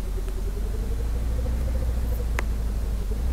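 A car drives along in the Roblox Bloxburg game, a steady low engine rumble with a faint rising tone running continuously, close and unbroken, with a brief click partway through.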